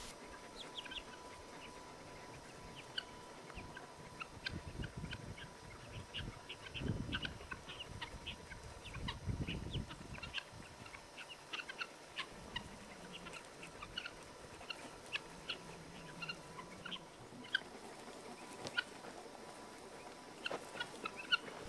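A flock of guinea fowl clucking and calling as dogs herd them outdoors, faint scattered calls with a few louder bursts, no talking.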